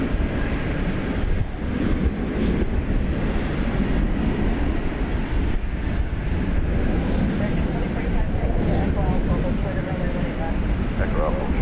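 Airbus A320 airliner at DFW Airport, a steady loud roar of jet engines with wind rumble over the microphone, continuous throughout.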